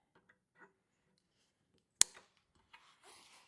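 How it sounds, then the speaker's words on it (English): A single sharp snip as cutters trim the end of a snowblower's chute deflector cable, loud and close, followed by faint handling rustle and scraping. "Snip off the end, preferably at an angle"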